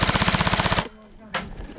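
An airsoft gun fires a fast, close, even burst of about twenty rapid snapping shots, then stops; a brief loud noise follows after a short pause.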